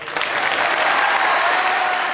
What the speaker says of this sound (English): Jimmy deserves an extra round of applause